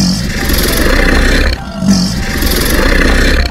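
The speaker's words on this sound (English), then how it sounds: "Nile crocodile." A Nile crocodile gives a loud, rough, hissing roar in two long breathy bursts separated by a brief pause, close and alone without speech.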